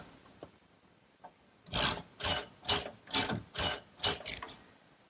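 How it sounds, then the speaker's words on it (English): A ratchet wrench tightens a nut and washer onto a bolt while assembling a wooden pencil post bed, heard as about seven quick, close ratcheting bursts in a steady rhythm. "Now a washer and a nut. Tighten it down."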